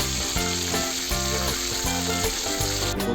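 Close, loud sizzling of marinated quail pieces frying in oil in a pan, a steady hiss with rhythmic crackle and a brief stir near the end, no talking.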